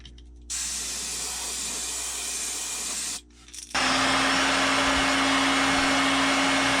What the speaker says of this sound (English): So let's prime these up in black.